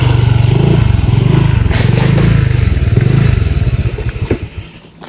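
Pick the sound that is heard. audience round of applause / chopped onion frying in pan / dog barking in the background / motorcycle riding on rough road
motorcycle riding on rough road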